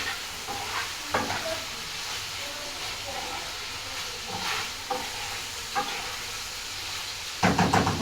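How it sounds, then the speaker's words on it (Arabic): Potatoes fry in a pan while Alexandrian-style liver is cooked, giving a continuous close sizzle and hiss with occasional stirring scrapes and a louder burst near the end. "البطاطس اهي بس خلاص قربت تتحمر"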